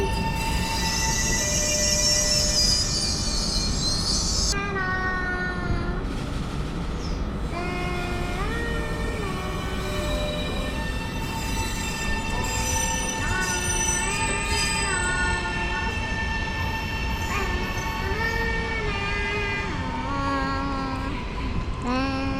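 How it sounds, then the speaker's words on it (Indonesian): A KLIA Transit airport rail link passenger train pulls in with a steady rumble and high squealing wheels, tones shifting as it slows, loud and close throughout. "Ini dia kereta kita yang mau kita naiki sudah datang."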